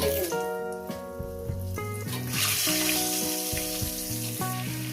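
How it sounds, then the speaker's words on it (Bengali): Potatoes frying in hot oil with salt and turmeric, a steady hiss of sizzling under loud background music with shifting tones. "আলুগুলো সুন্দর করে একটু করে আমি লাল আলু করে ভেজে নেবো"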